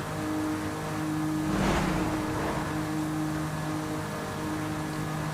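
Car engine in Forza Horizon 5 droning steadily at speed, with a brief louder swell of revs and rushing noise about a third of the way through, then settling back to a constant hum with no talk.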